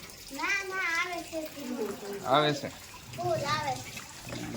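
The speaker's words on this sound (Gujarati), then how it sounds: "અમારે ફૂલ પાણી આવે અત્યારમાં." Water runs steadily from a household tap in a Gujarati home, a soft, continuous splashing flow beneath close talk that includes a voice.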